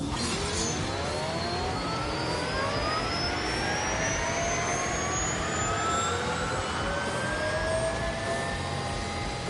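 A Rimac electric car launches in thrust mode in The Grand Tour video game, a loud continuous whine rising steadily in pitch throughout, alone and without talk.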